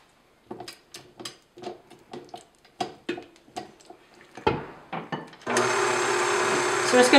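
Cheesecake batter being prepared: a series of close knocks and scraping sounds, then an electric mixer starts with a loud, steady whir that runs to the end.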